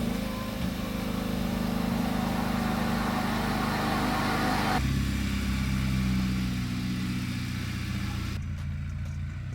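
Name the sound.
Hyundai Veloster Turbo driving on road test drive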